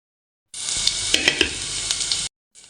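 Chopped tomato hitting hot oil in a pan, a loud bright sizzle bursting in and hissing steadily for almost two seconds with a few crackling pops, then cutting off, before a short burst returns.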